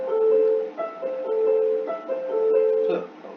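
Piano notes played legato under a slur, one running into the next with no gaps, forming a short repeating melodic figure at moderate volume with nothing else over it.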